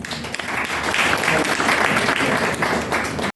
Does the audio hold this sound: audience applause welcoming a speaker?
yes